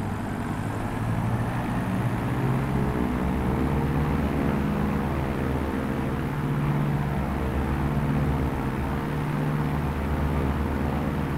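Steady low engine drone of an aircraft taxiing in Microsoft Flight Simulator 2024, a continuous rumble with layered propeller-like harmonics holding level throughout, no voices.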